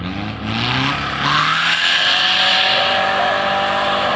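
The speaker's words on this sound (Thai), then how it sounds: "จะสับเกียร์สองตรงด้านหน้าเราเลยแหละ" An off-road 4x4 truck at an off-road event at Wat Nong Kesorn revs hard and shifts into second gear, its engine pitch climbing and changing in a loud, close roar with no talk.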